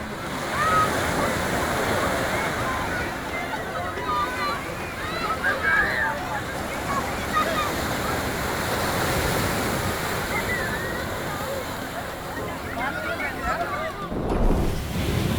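Sea waves roll and wash onto Kovalam Beach in Kerala in a steady, loud surf with wind buffeting the microphone and faint voices of beachgoers in the background.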